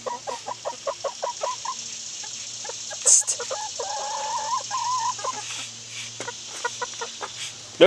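Close chickens cluck in quick repeated bursts, then one draws out a longer, warbling call before the short clucks resume; a low hum runs underneath.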